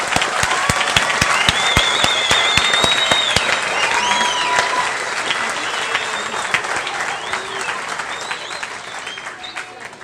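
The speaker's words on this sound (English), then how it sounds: "a round of applause, please." Graduation crowd applauding the class of 2018, sharp close claps standing out over a broad wash of clapping, with cheers and whoops rising through it and voices calling out.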